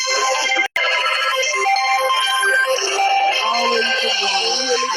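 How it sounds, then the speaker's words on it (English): A mobile phone ringtone, apparently a Motorola, plays a steady electronic melody of repeated tones for several seconds, loud and continuous apart from one brief cutout near the start. "I don't know whose phone is going off."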